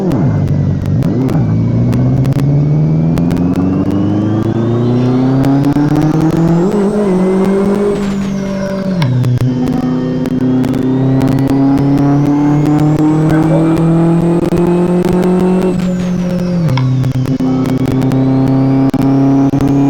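A Chevette 1.6 turbo drifts, its engine loud and close as it revs up and down in long sweeping pulls, with tire squeal woven through the roar across the run.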